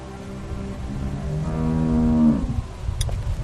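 A cow in The Walking Dead video game lets out one long, low, drawn-out moo that rises and then fades, heard close and clearly with no talking over it.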